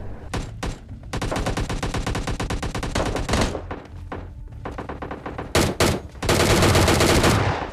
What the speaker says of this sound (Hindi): देखो गोलियां चल रही थी आसपास